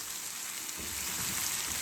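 Potato curry simmering on very low heat gives off a quiet, steady, even hiss that rises slightly partway through.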